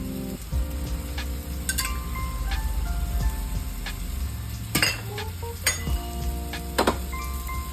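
An eggless tomato and besan omelette fries in oil in a pan, giving a continuous soft sizzle under a low hum, with several sharp clinks and scrapes of a spatula against the pan.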